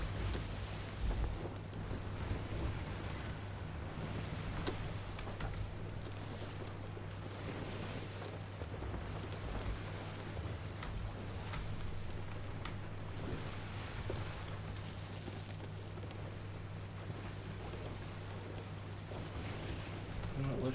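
A sailing ship moving across ocean waves in Sea of Thieves, with steady wash of water and wind rushing against the hull, a constant low hum underneath, continuous and fairly loud throughout.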